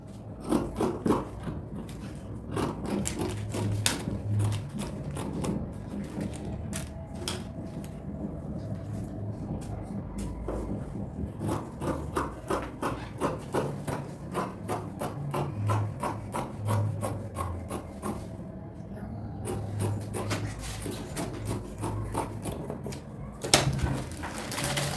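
Scissors cut through fabric for a 360° flare skirt in close, repeated snipping strokes with soft rubbing and handling between runs of cuts, steady and moderately quiet, no talking.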